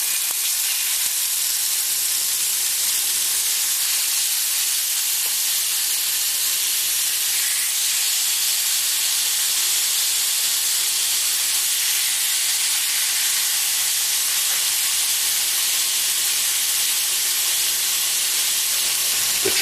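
Black cod steaks sizzle in a frying pan, a loud, steady hiss of frying oil that continues without a break and carries no speech.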